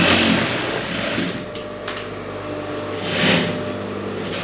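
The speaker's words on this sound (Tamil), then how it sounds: "நம்ம பாக்ஸ் கட்டிங் தான் பேக் தைச்சிட்டு இருக்கோம்" A sewing machine stitching a box-cut bag runs loudly and continuously up close, a dense mechanical whir with slight surges and no speech.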